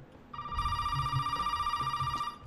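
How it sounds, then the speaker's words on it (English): An old telephone rings in the Resident Evil 7 game, a steady electronic trill held for about two seconds over a low rumble, with no voices. "Pick up the phone, man."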